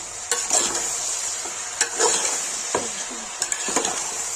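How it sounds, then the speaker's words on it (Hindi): Chicken frying with browned onions in a pan for dhaba-style chicken masala makes a constant sizzle, broken by repeated scraping strokes of a spoon every second or so, close and fairly loud, with no speech. "प्याज भून गया, इसमें चिकन डाल देंगे।"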